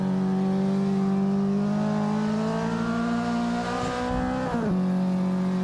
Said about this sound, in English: I can hear that clutch.